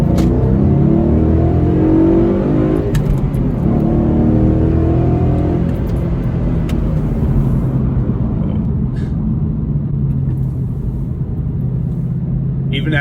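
A 2013 Mustang GT with a V8 accelerating hard, its deep engine rumble loud and steady throughout with rising whir, close and continuous for the whole stretch.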